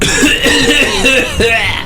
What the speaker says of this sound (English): You cough up a gallon of water